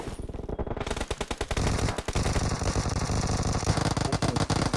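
Gunfire in a team deathmatch shooter video game rattles almost without pause, rapid automatic bursts at a steady rhythm, loud and close, with no voices.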